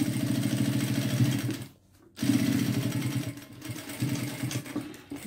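A domestic sewing machine runs in rapid rhythmic stitching bursts while backstitching a square fabric toiletry bag, with a brief pause and restart, close and loud with no talk.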